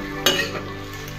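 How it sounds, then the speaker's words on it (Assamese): Onions with ginger and garlic frying in a pan for a simple chicken recipe, a steady close sizzle with brief louder stirring scrapes near the start and end. "ফ্ৰাই হৈ গৈছে পিঁয়াজখিনি, ধুনীয়া লাইট ব্ৰাউন কালাৰ আছে।"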